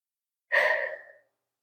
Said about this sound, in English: We're gonna sit here and just deep breathe for a second.